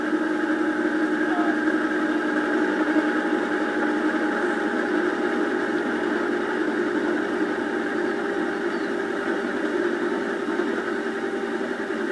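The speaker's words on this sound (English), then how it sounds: "Motor's a little noisy." An electric motor runs noisily and steadily throughout, a constant hum with a rough, slightly rattling edge and no pauses, fairly close by.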